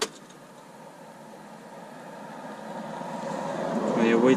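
A Mercedes truck engine runs with a steady low rumble and broadband hum that slowly grows louder, heard close from the cab.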